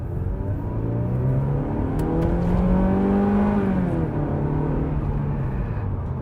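European car with a 150 PS engine accelerating hard from inside the cabin, a steady loud engine drone rising in pitch through a gear, then easing and climbing again over about six seconds.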